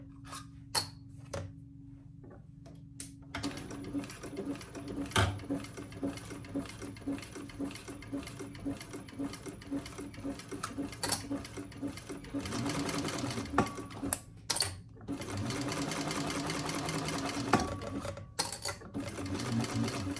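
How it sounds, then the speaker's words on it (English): Sewing machine back-stitching a seam on a cork mini box tote, running in rapid stitching bursts that grow longer and denser, with a person talking over the start and between runs. "And I'm just back stitching over that seam."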